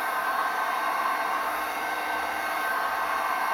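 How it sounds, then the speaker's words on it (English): A heat gun blows steadily on the plastic end of a rope light, giving a constant loud whooshing hiss with no change across the whole span. "Get a heat gun on it, heat the end up for a couple of minutes."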